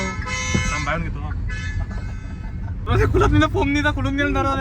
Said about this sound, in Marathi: हो हॉर्न दाब ना